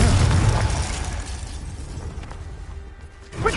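A Confringo blasting spell explodes in a video game with a loud close boom that rumbles and decays over a few seconds, followed by a sharp burst at the end.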